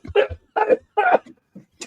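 A man coughs close to the mic in three or four harsh, rapid bursts that slide into a wheezy, laugh-like rasp, with short gasps between them.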